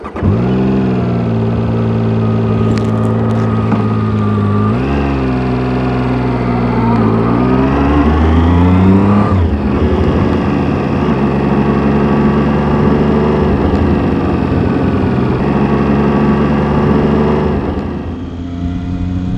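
A Zontes 703 Adventure triple-cylinder motorcycle engine rides off, loud and close, with a steady droning hum that rises in pitch as it accelerates through the gears, then holds a constant cruising note.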